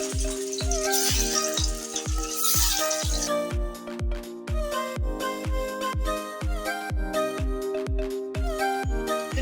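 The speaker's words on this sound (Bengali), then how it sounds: "আমি মাছটা ভেজে নেব।" Rohu fish fries in oil with a busy, close sizzle and crackle, while a steady tonal hum and a rapid regular ticking run underneath throughout.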